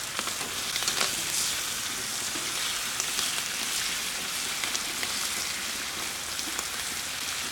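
Bacon fries in a hot pan with a steady, close crackling sizzle that stays continuous and dense throughout, with scattered pops and no voices.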